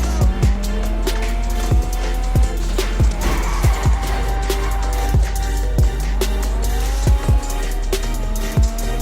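A car engine revs and drives in a GTA 5 heist, with shifting engine tones and repeated sharp thuds and tire noise over a steady loud low rumble, continuous throughout with no talk.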